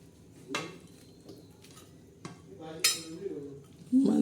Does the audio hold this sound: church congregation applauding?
no